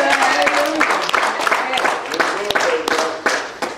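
A church congregation at a Sunday service claps its hands in a quick, rhythmic burst that fills the room, with a voice carrying over the clapping.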